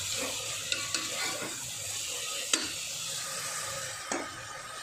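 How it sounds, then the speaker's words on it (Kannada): Vegetables fry in a pan and give a moderate, steady sizzle. A few sharp clinks and scrapes of a utensil come through at close range, and no one speaks. "ನೋಡಿದ್ರಲ್ಲ ವೆಜಿಟೇಬಲ್ಸ್ ಎಲ್ಲ ಸ್ವಲ್ಪ ಚೆನ್ನಾಗಿ ಫ್ರೈ ಆಗಿದೆ"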